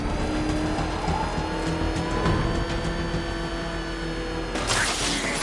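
Engines roar and rev at high speed with squealing tires and skidding, a constant loud racing din like a fast car chase in a PS4 video game.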